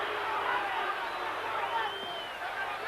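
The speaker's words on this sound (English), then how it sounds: "And some booing coming from the crowd." Crowd noise at a Mike Tyson versus James Smith boxing fight, a dense steady roar from a large arena audience with a faint rising and falling tone that may be booing, carried on continuously without clear breaks.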